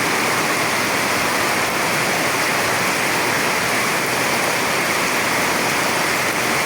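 Heavy rain pours down on an empty rural road beside rice paddies, making a dense, unbroken roaring hiss that stays steady throughout. Nobody speaks.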